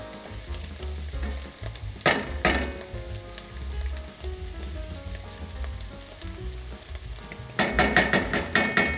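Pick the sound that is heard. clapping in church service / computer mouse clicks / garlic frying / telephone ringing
garlic frying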